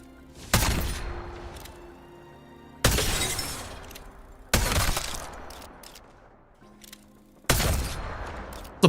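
A shotgun sniper in the video game Apex Legends fires four loud, sharp blasts spaced a couple of seconds apart, each followed by a decaying rattling echo, with little else between shots.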